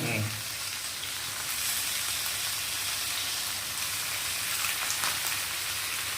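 Chicken meat frying in a pan, a loud, steady, close sizzle like heavy rain, running continuously without pause from start to end.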